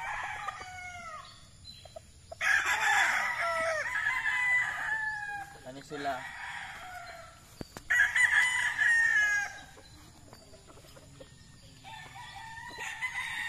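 Gamefowl roosters crow repeatedly at a game farm, several long calls overlapping at moderate distance with clucking in between, while a person speaks briefly.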